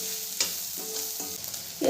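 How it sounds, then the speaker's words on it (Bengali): Cumin and turmeric powder being stirred into a potato filling for Bengali-style aloo paratha in a pan, with a soft steady sizzle and a few distinct spatula scrapes, close and fairly quiet. "ভালো করে মিশিয়ে নেব।"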